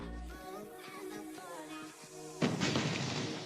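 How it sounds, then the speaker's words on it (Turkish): A grenade bursts in a video game, a loud, rough blast that cuts in after a quiet stretch of low game ambience and rumbles on briefly. "Adam bomba sallamış ya."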